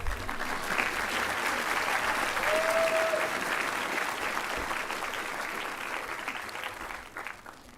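A graduation audience at a class of 2026 commencement claps in a broad, steady wave that thins and fades out toward the end.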